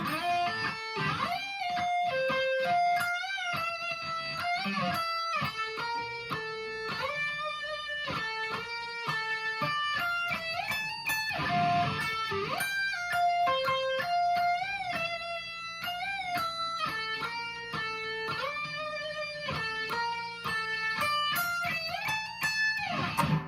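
A melodic electric guitar solo, quick single notes and bends played over a light backing, clear and continuous.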